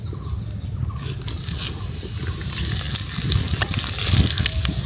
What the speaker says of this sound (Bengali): ফোড়নে দিয়ে দিব কিছু তেজপাতা, কিছু শুকনো মরিচ আর কিছু জিরা